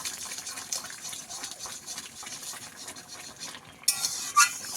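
Boiled lentils (dal) stirred and mashed in a pot with a wooden stick, giving soft wet scraping and sloshing that builds into a few sharper clinks and splashes near the end.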